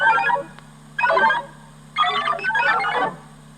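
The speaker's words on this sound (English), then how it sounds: "You will know it is time to turn the page when you hear the computer sound like this." A computer chime signals a page turn in a Tron read-along, sounding as three short, bright electronic warbling bursts in quick succession, clear and close, over a faint steady hum.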